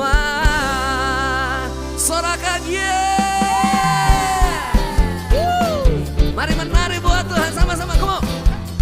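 A church congregation at a worship service cheers and shouts, with whoops and yells over loud music and singing in a lively, continuous crowd roar.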